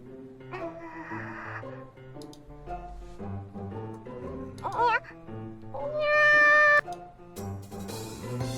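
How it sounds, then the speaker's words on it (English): Cat meows from the Nekopara visual novel game, a few clear mews sounding over soft background game music, with a short voiced line in the middle. "Oh, it's just a cat, huh?"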